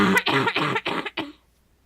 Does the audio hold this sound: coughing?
yes